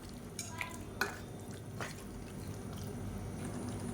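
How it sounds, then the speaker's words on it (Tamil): Mutton is stirred and sautéed in a hot pan: a few scraping strokes near the start, then a steady low sizzle. "இப்போ இந்த மட்டன் தேவையான உப்பு சேர்த்துக்கலாம் நல்லா சூடு ஏறி கொதித்து வரணும் இந்த அளவுக்கு நல்லா வதக்கி விட்டுக்கலாம்"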